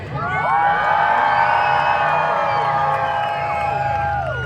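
A large crowd at a fair's Motokazie Supercross event cheers and whoops loudly, a dense sustained roar of voices with high shouts layered on top, filling the whole stretch without a break.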